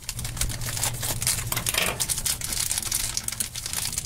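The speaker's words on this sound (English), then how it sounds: "Let me get my scissor. I'll cut these open." Scissors cut open crinkly plastic packaging of surprise mystery toys. Close rustling and crackling with quick snipping clicks runs continuously, with no talk.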